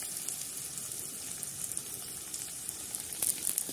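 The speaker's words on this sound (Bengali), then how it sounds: "পেঁয়াজটা হালকা ভাজা হয়" Onion and fish roe frying together in a pan, a steady soft sizzle heard close up with brief crackles and clinks toward the end, no voices.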